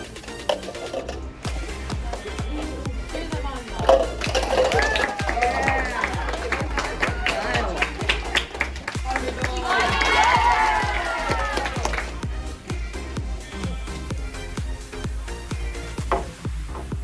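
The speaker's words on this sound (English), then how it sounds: "Cheer them on, though." A crowd cheers and applauds at a podcast taping, steady clapping and shouts rising in waves under music and overlapping voices.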